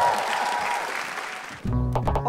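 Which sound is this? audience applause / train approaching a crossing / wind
audience applause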